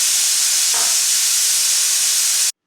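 A pressure cooker vents a loud, steady hiss of steam as it cools, then the sound cuts off abruptly.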